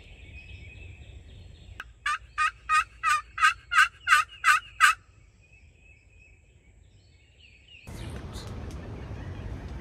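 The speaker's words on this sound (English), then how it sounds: "Still got one bird gobbling off to our left." A wild turkey gobbles in West Virginia hardwoods on the opening day of turkey season: a single fairly close, loud gobble of eight rapid rattling pulses, followed by quiet and then a burst of rustling noise.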